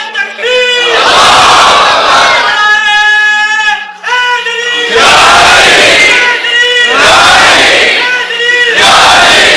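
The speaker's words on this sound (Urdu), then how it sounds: "اگر خودداری پر نوجوان نعرے لگانے لگ گئے تو پھر تو بات بن گئی" A large crowd of young men chants slogans in loud, forceful unison, with repeated rhythmic bursts of shouting that fill the space with no pause.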